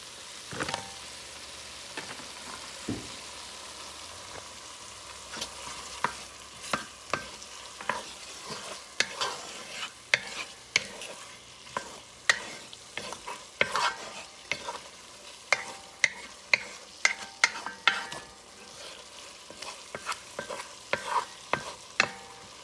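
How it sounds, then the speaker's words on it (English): Pumpkin stirred into a sizzling stew pot of chickpeas and summer sausage, with a steady frying hiss under repeated scraping spoon strokes that knock against the pot at irregular intervals. "Let me add the pumpkin now."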